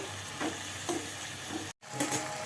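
Snake gourd is stirred into grated coconut frying in a pan for upperi, giving a constant sizzle with rhythmic scraping strokes and a brief silent break near the end.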